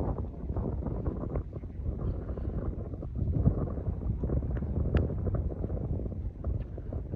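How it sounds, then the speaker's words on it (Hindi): Outdoor wind during a kite-fighting session keeps up a steady, loud rumbling roar, buffeting the microphone the whole time with no voices. "हवा भी शानदार है इस टाइम"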